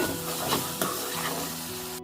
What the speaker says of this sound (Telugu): ఇప్పుడు మనం ఫ్రెష్గా పట్టుకున్న అల్లం వెల్లుల్లి పేస్ట్ కూడా వేసేసుకుందాము ఇవి కూడా బాగా పచ్చివాసన పోయేదాకా వేపేసుకుందాము